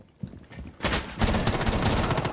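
Rapid automatic gunfire with heavy recoil in a Rainbow Six Siege-style video game, a few scattered shots followed by a dense, sustained burst of loud, close firing.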